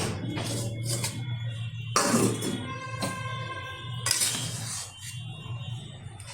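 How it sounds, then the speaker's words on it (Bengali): Metal lid lifted off a pot of cooked sweet vermicelli, a few clinks and scraping knocks of metal on metal over a steady low hum, with a brief metallic rattle, no talk. "ঢাকনাটা তুলে দিচ্ছি"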